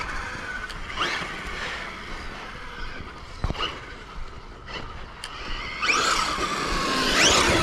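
Slap Sell Blitzkrieg RC car on its first run on 3S, whining and buzzing as it drives, with a sharp squeal near the middle and rising motor whine toward the end, fairly close.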